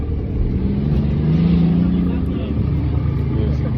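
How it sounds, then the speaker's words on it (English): An 1100-horsepower Corvette at a drag strip holds a loud, steady engine rumble throughout, with a low droning idle under nearby voices talking over it. "1100 horsepower Corvette."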